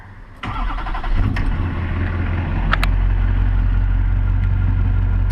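A high-mileage truck with about 400,000 miles and a cold motor cranks briefly, starts and settles into a loud, steady, deep idle close by.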